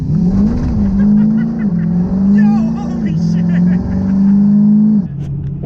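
A diesel truck launches and pulls hard, its engine holding a loud, strained drone that rises and dips across gear changes before easing off near the end.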